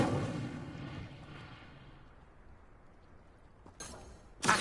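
Incendio fire spell cast in Hogwarts Legacy, a burst of roaring flame that fades over a couple of seconds, followed by two short sharp hits near the end.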